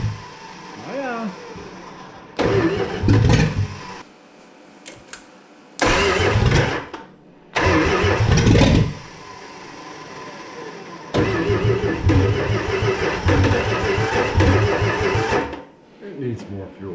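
A 1965 Plymouth Fury wagon with a 318 V8 cranks repeatedly in loud bursts, then catches and runs rough with uneven revving before dying. People talk between the attempts.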